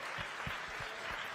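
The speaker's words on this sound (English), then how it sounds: "Yes, please applaud for that." Studio audience applauding after remarks about an all-women spaceflight crew's journey, a brief, steady wash of clapping heard alone with no talk over it.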